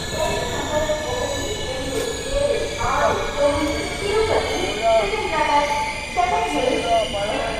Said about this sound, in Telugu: మన ట్రైన్ వచ్చేసి గుత్తి జంక్షన్కి అయితే వచ్చింది, బయలుదేరిపోయింది.